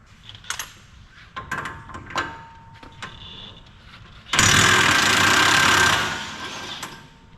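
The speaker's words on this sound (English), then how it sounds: "That axle nut is a 32mm, and there's no way to get that off without using an impact" A loud impact wrench removes the 32mm axle nut from a 2020 Porsche 718 GT4 Clubsport, one sustained burst of rattling hammering lasting about a second and a half after a stretch of light clinks and handling noises in the workshop.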